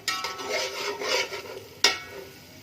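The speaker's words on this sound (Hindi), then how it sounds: "प्याज ब्राउन हो रहे हैं, हमने प्याज डाल दिया है।" Onions browning in a pan for Kashmiri mutton matar-aloo pulao, a steady close scraping stir over soft frying, ending in one sharp louder scrape before trailing off.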